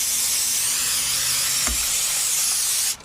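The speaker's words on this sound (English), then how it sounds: "just spray down the whole thing with brake clean" Brake cleaner sprayed from an aerosol can onto transmission parts during an automatic transmission fluid exchange, giving a steady, loud, close hiss that runs nearly the whole time and then cuts off abruptly at the end.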